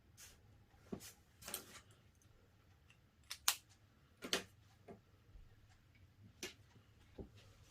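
Scissors snipping through fabric along a marked line, a handful of sharp, separate clicks and short cutting strokes at close range in a quiet room.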